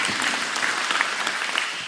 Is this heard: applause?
yes